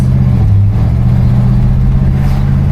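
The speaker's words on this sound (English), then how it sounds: "Once I get past this car, I give her a little bit of gas." A 1975 Buick LeSabre's engine pulls under light throttle while driving, a loud, steady low drone and rumble heard from inside the car with a slight rise in pitch, and no talking.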